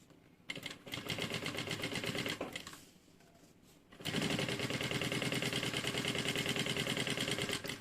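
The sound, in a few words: sewing machine stitching fabric with backstitch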